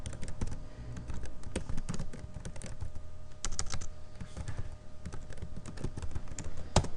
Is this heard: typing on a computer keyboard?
yes